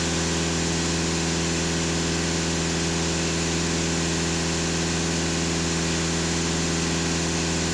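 A VW/Skoda Euro 6 car engine with a CRLB diesel runs at steady revs during a workshop diagnostic check, giving a constant droning hum with a strong low tonal layer and an even broadband hiss, with no speech.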